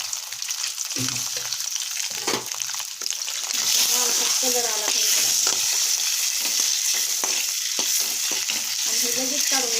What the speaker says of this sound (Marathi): तर हे अंडे मी याच्यामध्ये सोडत आहे आणि मीठ टाकत आहे